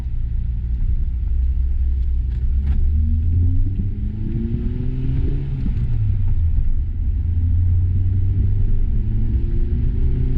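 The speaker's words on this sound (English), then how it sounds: "It's rev matching. I was like, why is the engine revving?" A Honda Civic Type R Limited Edition engine revs during automatic rev matching on a test drive, loud low rumble with rising and falling engine tones blipping repeatedly over steady road noise, no talk.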